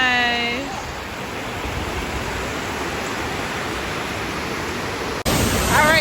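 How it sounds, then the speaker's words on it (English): A waterfall in Georgia roars as a dense, steady broadband rush filling the whole clip, close and loud, with brief chirping tones at the start and an abrupt jolt near the end. "we got a waterfall over there"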